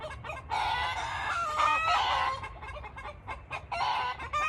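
A rooster crows loudly close by amid dense clucking from several chickens, the calls overlapping in quick bursts with short pauses between.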